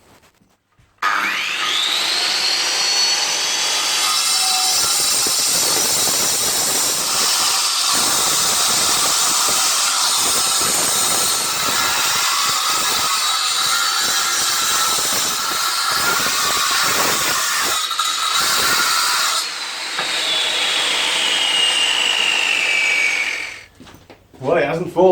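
A 9-inch angle grinder spins up with a rising whine and cuts through steel in a workshop wall being taken down, a loud, continuous harsh grinding that runs unbroken for over twenty seconds before winding down.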